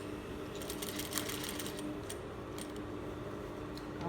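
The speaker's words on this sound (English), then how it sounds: "I'll lift up my presser foot also and sew back to the hem line." A sewing machine stitching fabric for an Iro and Buba outfit runs in a steady, continuous whir with a fast needle rattle, close and fairly loud with no talking.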